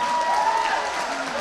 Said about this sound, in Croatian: Jedan jači aplauz.